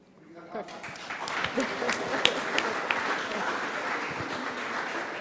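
A conference audience breaks into applause for a panel, building quickly from near silence into sustained, dense clapping from many hands with a few sharper claps standing out, filling the hall.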